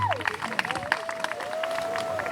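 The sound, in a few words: wedding guests clapping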